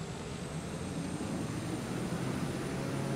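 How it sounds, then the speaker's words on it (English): A propeller plane engine starts up in Microsoft Flight Simulator, a steady, broad droning rumble that builds gradually and holds at a moderate level with no talking. "I'm just going to just engage the brakes and start the engine."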